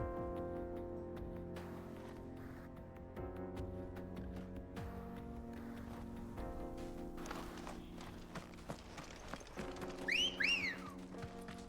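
A whistle sounds in the Final Fantasy XVI video game, a short rising and falling call near the end, heard over game music and hoof-like footsteps.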